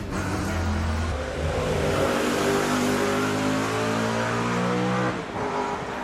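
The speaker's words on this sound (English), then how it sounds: "they had this amazing V8 and it sounded so good" Audi's V8 DTM race car engine revs hard and loud, its rising and falling pitch held for several seconds before cutting back, with no voices present.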